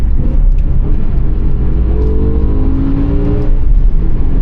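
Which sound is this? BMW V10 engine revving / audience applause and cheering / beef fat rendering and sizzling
BMW V10 engine revving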